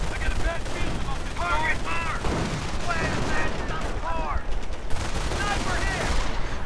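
Machine gun bursts and mortar fire crackle through a real-time strategy game battle, a dense, continuous fusillade of shots and blasts under a commentator's voice.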